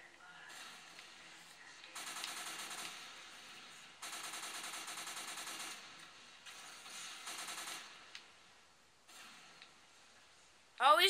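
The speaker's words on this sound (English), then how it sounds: "After going with the SMG." Bursts of rapid SMG gunfire in the video game Team Fortress 2, several short strings of fast shots separated by brief pauses at moderate volume.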